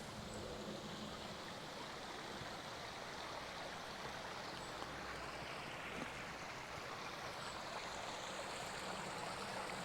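A garden pond waterfall cascade runs steadily, a continuous broadband rush of splashing water at a constant level throughout, with no voices.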